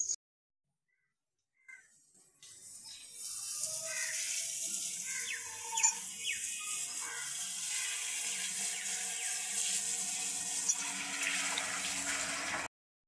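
Water gushes steadily for cattle to drink after a brief knock and pause, a close, continuous splashing flow that holds at even loudness to the end.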